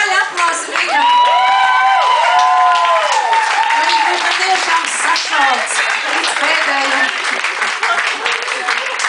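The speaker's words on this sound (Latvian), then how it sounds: "Skaļi aplausi viņam." Loud audience applause at the Ingemara zeni 2012 event fills the whole stretch, mixed with cheers, whoops and shouting voices, while someone talks over it.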